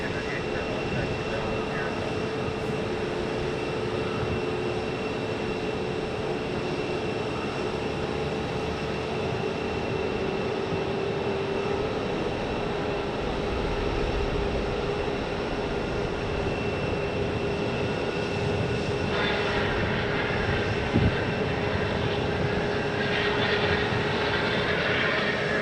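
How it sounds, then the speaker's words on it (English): A WestJet Boeing 737-700 arrives at Phoenix airport, its jet engines a continuous broad roar that swells and shifts in the final seconds, heard from a distance under a voice talking. "And then WestJet 737-700 from"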